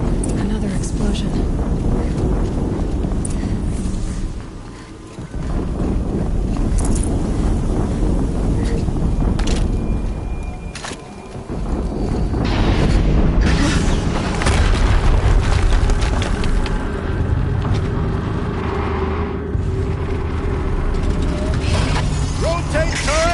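Booming explosions in Horizon Zero Dawn gameplay, loud and rumbling, with several blasts and wind-like roars rising and fading across a long stretch.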